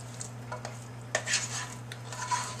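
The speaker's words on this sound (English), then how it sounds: "to mix up the butter again and the parsley and the bacon" Potatoes are stirred with butter, parsley and bacon, and a utensil scrapes and clinks against the pot in soft, irregular strokes over a steady low hum.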